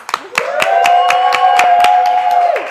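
Several people clap in a steady, evenly spaced rhythm at the close of a live news show, sharp claps heard over a sustained sung or whooping voice.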